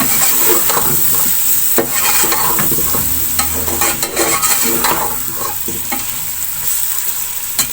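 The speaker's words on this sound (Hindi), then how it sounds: "अब आलूओं को भी थोड़ी देर में भून लूंगी।" Diced potatoes fry in hot oil in a pan for an aloo chicken curry, a steady loud sizzle broken by scraping stirs from a spoon, with no one speaking.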